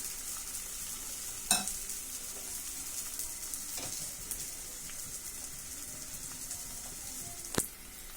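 Food frying in a pan gives a faint, steady sizzling hiss throughout, broken by a couple of brief clicks or taps, quiet and close, with no talking.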